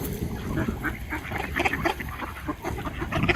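A group of ducks by a river quacking, repeated nasal calls overlapping in uneven bursts, fairly faint against an outdoor background hiss.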